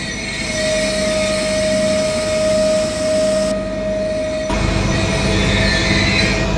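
A train braking in a PC train simulator game gives a loud, steady rumble with a sustained squealing tone, then a sudden shift to a heavier, rougher roar as the braking sound changes.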